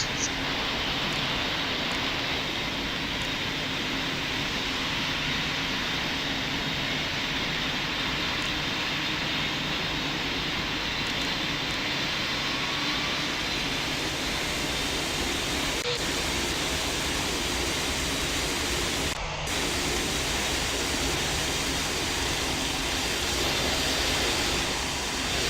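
Steady broadband roar of a heavy airliner taking off in the Roblox flight simulator game Pilot Training Flight Simulator, loud and unbroken throughout with a brief dropout near the end, no voices.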